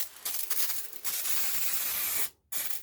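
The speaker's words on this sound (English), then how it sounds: "Let's give her enclosure just a little spray over." A spray bottle mists the enclosure of an Asian forest scorpion in several close, hissing bursts separated by brief pauses, a longer spray followed by a short final spritz.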